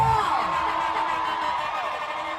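A crowd at a live event cheers and whoops in a steady, loud, continuous roar of overlapping voices, close by, with no breaks.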